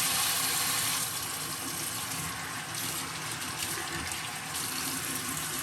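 Water running from a bathroom tap to wet a razor during a shave, a steady close rush of flowing water that is louder for the first second and then continues evenly, with no talking.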